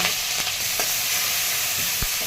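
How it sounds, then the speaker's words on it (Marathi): Green chili and garlic sizzle and fry in hot oil in a pan for a village-style gargati bhaji with shepu, a steady close crackle with a few sharper stirring clinks, no talk. "आता यामध्ये हिरवी मिरची आणि लसूण टाकून"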